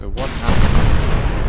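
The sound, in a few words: 14-inch naval gun firing in Ultimate Admiral: Dreadnoughts video game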